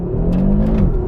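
An Audi RS3 pulls away hard under full throttle, its engine a loud, close, steady drone with a pitch that rises and then dips, heard alone without voices.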